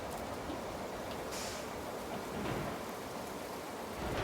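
Steady rain falls in the RoadCraft construction video game, a constant hiss that stays even throughout with a faint low rumble beneath, and no voices.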